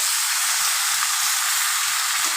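Malabar spinach, pui shak, frying in hot oil, giving a loud, steady, close hiss and crackle of sizzling, with faint low knocks from stirring underneath.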